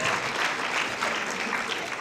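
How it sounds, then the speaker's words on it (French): A cinema audience at a film premiere claps in a dense, even burst of applause, loud and close, holding steady for about two seconds. "On peut les applaudir."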